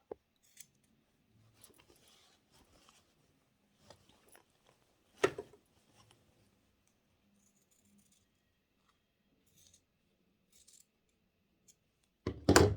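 Scissors trim excess fabric in a quiet room, a few sparse, faint snips and small handling clicks spread over several seconds, with a louder rustle near the end.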